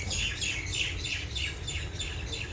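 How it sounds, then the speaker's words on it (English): Birds chirp outdoors in a rapid, repeated series of bright tweets, fairly close and clear over a steady low background rumble, with no talking. "You heard the birds, right?"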